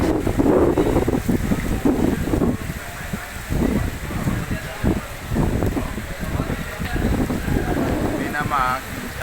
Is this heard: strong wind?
yes